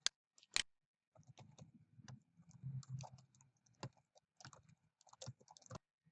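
Keys on a computer keyboard are tapped in quick, irregular runs while a macro description is typed, close and fairly quiet, with a couple of sharper clicks at the start.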